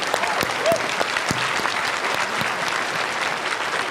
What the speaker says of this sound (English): Give her a big round of applause for courage.